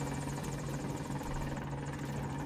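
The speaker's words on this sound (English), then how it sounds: "Hey, that's the helicopter I parked up there." A helicopter in a video game, heard as a faint, steady rotor drone with a low hum and fluttering pulses, unbroken and without voices.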